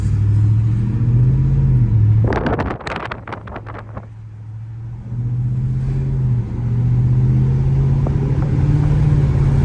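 A Ford F-150 5.0 V8 with a Flowmaster 40 exhaust idles close by with a deep, steady rumble, briefly rising in a revving burst, with wind noise over the microphone.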